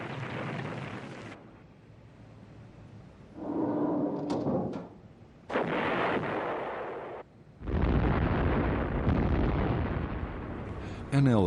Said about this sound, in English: Operation Crimp began with massive airstrikes and artillery bombardments